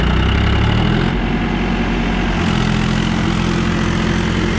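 A Powertrac Euro 50 tractor runs with an 8-foot Param rotavator attached, a loud, dense, continuous engine drone with a steady low rumble and no pauses, heard up close.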